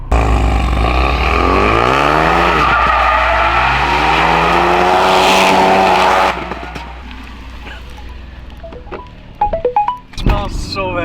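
A Ford Focus RS in drift mode slides with loud, sustained tire squeal over a revving engine for several seconds, then the noise cuts off and a voice speaks nearby amid scattered clunks.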